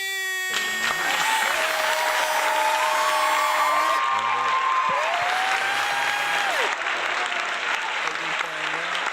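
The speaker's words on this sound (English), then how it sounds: "That let the deaf people know that we clapping." Audience clapping at an event with a state representative, a steady loud wash of applause with cheers and whoops, while voices talk and sing over it throughout.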